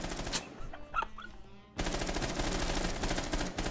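Automatic gunfire in Rainbow Six Siege, a short burst, a brief lull, then a long sustained rapid-fire stream of shots, loud and close.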